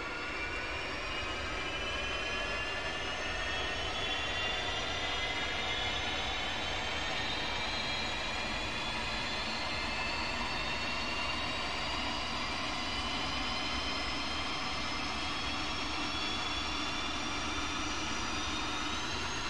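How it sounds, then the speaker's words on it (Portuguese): An F-5E jet engine spools up during startup in the DCS flight simulator, a steady whine rising slowly in pitch over a low continuous roar, loud and unbroken throughout. "a gente vem aqui agora e vai dar o start no motor esquerdo"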